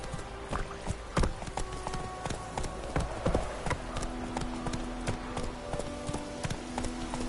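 Horse hooves clip-clopping at a steady trot or gallop in The Witcher 3, a rhythmic run of close hoof strikes over a low ambient game backdrop with no talk.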